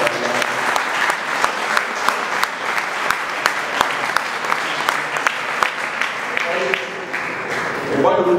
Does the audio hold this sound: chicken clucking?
no